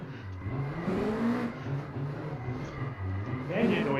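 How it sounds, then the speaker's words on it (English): A Mazda MX-5 NA engine revs and drones in a sim drifting game, its pitch rising and falling through repeated throttle swells, loud and continuous while someone talks over it. "The engine noises are pretty loud in this one"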